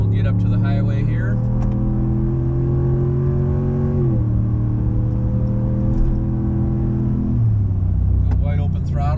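From inside the cab, a Ram 1500 pickup with a 5.7L V8 and an MRT dual cat-back exhaust accelerates hard. A deep, steady engine drone climbs in pitch and drops back at two gear shifts, loud and continuous throughout.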